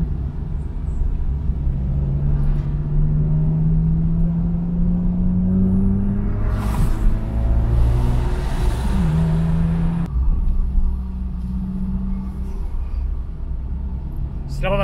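A car's engine rumbles and climbs in pitch as it accelerates along a road, heard from inside the vehicle, steady and fairly loud with a brief shift midway before settling.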